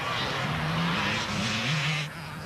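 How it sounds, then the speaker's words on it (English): A 300 KTM enduro motorcycle ridden hard near the finish area of an enduro race, its engine wound up in a loud, buzzing rev that wavers in pitch over a couple of seconds, with a voice briefly over it. "Alfie Cox winds it up on that 300 KTM"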